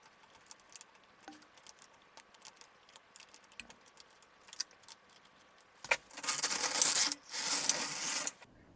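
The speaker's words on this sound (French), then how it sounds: "Donc je transfère ma maille vers la droite." Stitches being transferred on an LK150 knitting machine: scattered small metallic clicks and light tapping at first, then two loud, rough sliding rasps near the end, like the carriage pushed across the needle bed.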